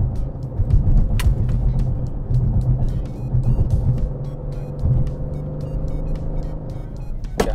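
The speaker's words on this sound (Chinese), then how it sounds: "加速，简单的加速测试" An Aston Martin DB11 V8 with its ZF eight-speed automatic accelerating hard during a road test, heard from inside the car as a steady deep engine rumble and road roar with a faint clicking overhead and no speech.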